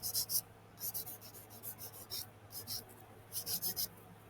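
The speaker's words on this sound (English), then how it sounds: "All you're doing is buffing the surface." Short, quick buffing strokes scrub across the surface of an artificial nail in brisk bursts of about five, close and fairly faint, with short gaps between groups and a low hum underneath.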